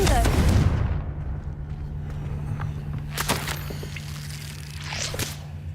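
A Confringo explosion spell goes off in the Hogwarts Legacy video game, a deep rumbling boom at the start that fades into a low hum, followed by softer in-game clatter and swishes.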